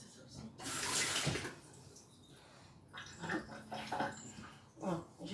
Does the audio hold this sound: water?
yes